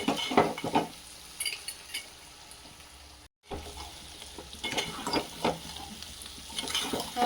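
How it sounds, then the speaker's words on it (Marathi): Chili powder fries in hot oil in a pan, a close crackling sizzle under repeated scraping stirs of a spoon, with a brief cut to silence midway before the frying and stirring resume. "एक चमचा तिखट टाकून घेऊया। करून घेऊया तिखट छान होतपर्यंत तेलामध्ये।"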